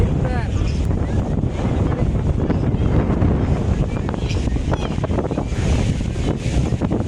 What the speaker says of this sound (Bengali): প্রচুর পরিমাণ বাতাস প্রচুর বাতাস